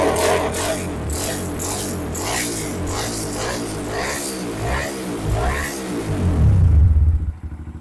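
A Yamaha Scorpio motorcycle engine runs close by, revving in repeated short bursts over a steady idle, swelling louder toward the end before cutting off abruptly.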